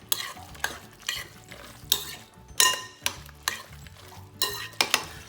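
Fruit filling for gyoza stirred in a bowl, a repeated scraping and clacking of a utensil against the container at a steady rhythm of about two strokes per second, close and fairly clear with no talking.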